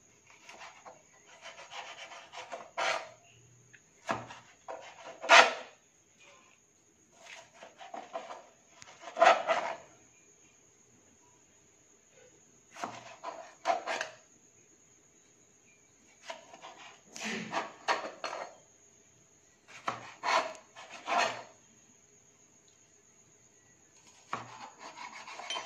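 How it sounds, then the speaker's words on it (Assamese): A knife cuts tomatoes and onions on a board for a pork dish, giving bursts of scraping, rasping strokes in clusters with short pauses between, close and moderately loud, with no talking. "এয়া আমাৰ বিলাহী আৰু পিঁয়াজ কাটিবলৈ আছে"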